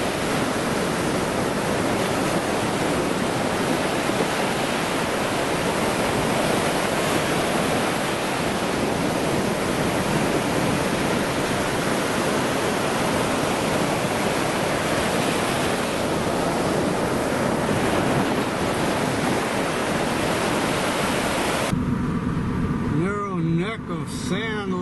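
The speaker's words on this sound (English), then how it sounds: "I'm just going to record a little bit of ocean sound here." Ocean waves and surf on a North Carolina barrier beach between Pamlico Sound and the Atlantic, a steady loud broadband roar of breaking water that continues unbroken and ends with a brief burst of wind buffeting.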